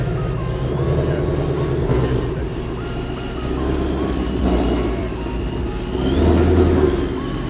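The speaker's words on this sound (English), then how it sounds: "This Mustang sounds incredible." A Mustang GT with a ProCharger supercharger idles at a Terminator Cobra car meet, a loud, steady low engine rumble that swells slightly near the end, with outdoor crowd noise around it.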